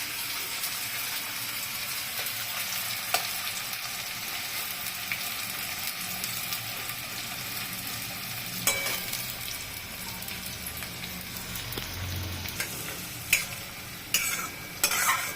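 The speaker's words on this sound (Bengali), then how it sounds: "এখন তেল পুরো গরম আছে, তো এখন আমি পেঁয়াজটা দিয়ে দেব। পেঁয়াজটা দিয়ে একটু ভাজবো।" Onion fries in hot oil over a medium gas flame, a steady, close sizzle with occasional stirring clatters and scrapes toward the end.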